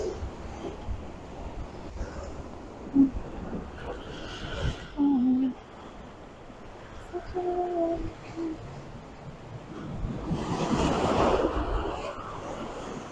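Ocean waves crash and splash against the rocky cliffs along the Newport Cliff Walk in Rhode Island, with a big surge swelling near the end over wind noise, and people briefly talking in between.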